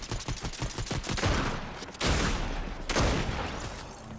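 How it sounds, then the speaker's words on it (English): Rapid bursts of gunfire in an online shooter video game, a dense rattle of shots at first, then two loud close volleys around the middle and near the end, with no talk. "Somebody's shooting at me."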